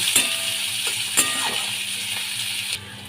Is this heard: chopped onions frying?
yes